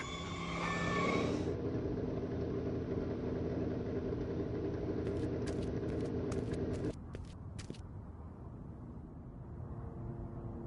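Car engine in a Back to the Future video game rumbling steadily at idle, with a brief burst of electronic chirps partway through before the sound settles into a quieter hum.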